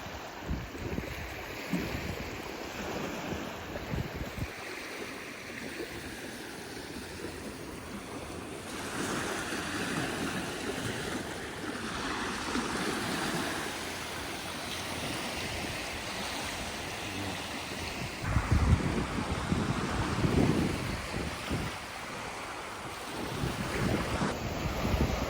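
Ocean surf and wind on Sullivan's Island beach at sunset, a continuous wash of breaking waves with gusty wind buffeting the microphone, swelling louder toward the end.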